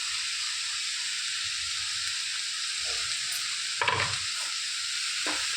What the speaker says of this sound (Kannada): ಈಗ ಟೊಮೆಟೊ ಮಿಕ್ಸ್ ಮಾಡ್ತಾಯಿದ್ದೀನಿ